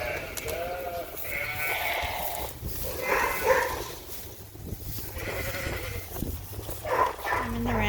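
Sheep bleating in a ram pen on a sheep farm during pre-lambing preparations, several wavering calls rising over a busy background of farm noise with voices talking nearby.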